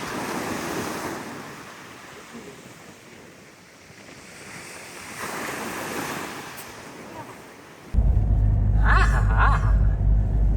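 Sea waves and wind on a beach, with a large boat offshore; steady surf wash and gusting wind for most of the stretch, then a sudden loud rumbling blast of wind buffeting the microphone near the end.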